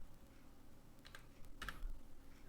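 A captcha code is typed on a computer keyboard as a few soft, quiet keystrokes in a short burst against a faint background hiss.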